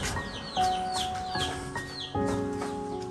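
Chickens cluck on a small Vietnamese garden farm near a storehouse, with short rising calls repeating at a moderate distance over a steady background hum.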